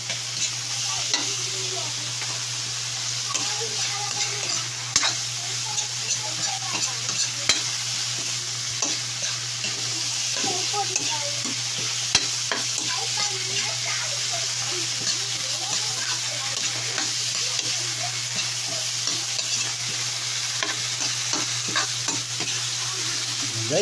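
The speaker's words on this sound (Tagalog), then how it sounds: "Luto tayo ng ampalaya." Bitter gourd (ampalaya) stir-fried in a pan makes a constant, busy sizzle with frequent scraping and tossing clicks, close and steady throughout with a faint low hum beneath.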